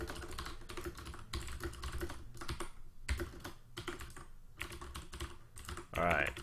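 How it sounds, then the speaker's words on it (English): Fingers clatter on a computer keyboard in rapid runs of keystrokes broken by short pauses, close and moderately loud, with a brief voice near the end. "Alright, sorry, just typing."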